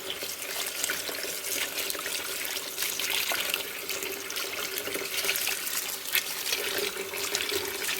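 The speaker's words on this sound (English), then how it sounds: "Go like that to make sure that they all get a good rinse in the water." Kale greens are swished and rinsed in a basin of water, giving a steady close splashing and trickling wash throughout with no talk.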